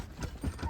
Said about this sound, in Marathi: सुरुवातीला आम्ही बैलगाडीमध्ये बसलो